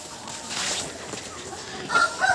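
Chickens cluck on a small farm, with soft scattered calls over a low background and a couple of sharper, louder clucks near the end.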